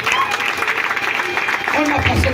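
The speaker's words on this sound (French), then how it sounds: "Applaudissez quand même pour cette mission." Audience applause at a church gathering, a steady wash of clapping filling the room throughout, with voices mixed in underneath.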